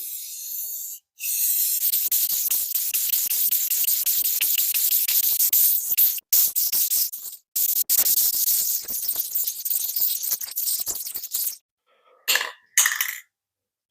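Aerosol spray paint hisses in long continuous bursts over a wooden flag, with brief pauses between passes and short final spurts, close and steady.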